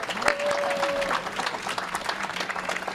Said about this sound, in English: let's ever give a round of applause for Arnold